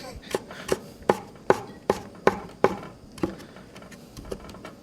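A knife chops green onions on a cutting board in a home kitchen, about a dozen crisp, evenly spaced strikes that soften toward the end, close and alone.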